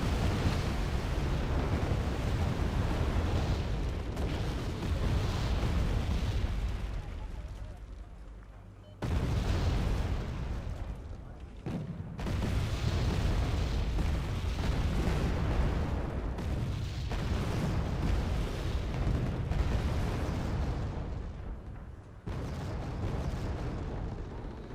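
Heavy, continuous battlefield din of anti-aircraft fire pounding units in the Wargame Red Dragon strategy game, a dense wall of booms and bursts running nearly nonstop with a short break midway.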